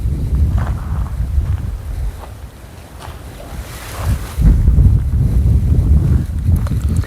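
Wind buffets the microphone while waves wash onto the seashore at Ratneshwar Mahadev, a continuous rough roar that swells louder toward the end, with no talking.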